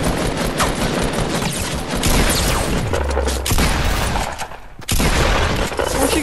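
Rapid bursts of Fortnite gunfire crackle densely and loudly for several seconds, with a short break near the end before the shooting resumes.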